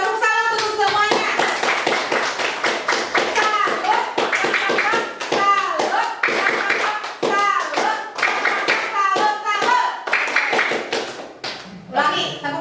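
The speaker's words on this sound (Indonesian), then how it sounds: "Tepuk tangan untuk semuanya." Children at a special needs school (SLB Negeri Subang) clap together in a quick rhythmic pattern, with sharp, close hand claps in short bursts mixed with chanting young voices.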